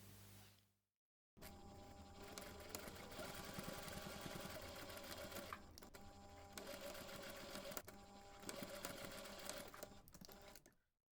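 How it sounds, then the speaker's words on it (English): Sewing machine stitching faux leather card slots for a zip-up cardholder, a steady close mechanical whir in long runs with brief pauses after a short silent start. "We're going to sew along the bottom following the line that we previously marked, and then we can baste those two side edges."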